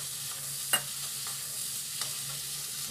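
Leftover cooked rice is stirred into fried vegetables in a pan for veg pulao over a constant close frying hiss, with a few distinct scraping clicks of the spoon against the pan.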